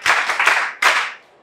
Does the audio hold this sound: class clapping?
yes